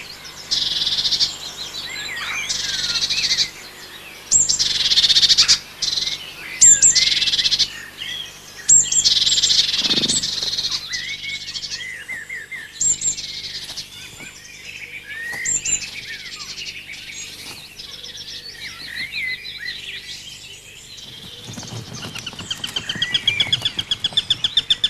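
Small woodland birds such as tits call and chirp in repeated high, bright bursts, some close and loud, with softer calls and a faint insect-like background between them and a brief lull before denser chirping at the end.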